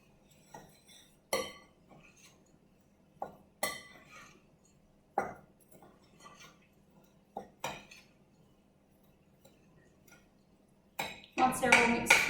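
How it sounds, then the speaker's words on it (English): A utensil stirs dry ingredients in a bowl, making scattered clinks and taps against the bowl with quiet pauses between them, then a quicker run of rattling strokes at the end. "you give them a really good stir"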